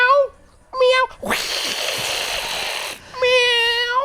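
Person imitating a cat with drawn-out meows, two short nasal mews, then a long breathy hiss-like noise, then another stretched meow, loud and close.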